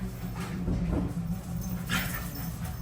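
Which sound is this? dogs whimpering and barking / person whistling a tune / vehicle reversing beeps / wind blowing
dogs whimpering and barking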